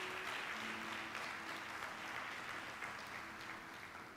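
A church congregation applauds during a Portuguese-language communion service, producing steady, dense clapping that holds at an even level throughout with no voices over it.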